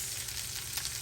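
Shredded cabbage and scallion whites sizzle steadily in a hot pan, a constant bright frying hiss with a slight surge of crackle near the end.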